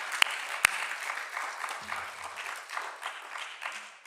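A church congregation claps for the mothers in steady, moderately loud applause lasting a few seconds, with a couple of sharp knocks near the start and a brief low tone in the middle.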